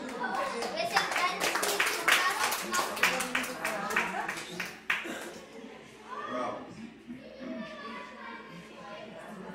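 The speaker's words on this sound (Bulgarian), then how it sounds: "Ами още веднъж аплодисменти за тия малки големи ученици от втори А и втори Б клас" Applause for second-grade pupils at a school Christmas event, a dense run of hand clapping in the first half that thins out, with children's chatter and voices mixed in and continuing underneath.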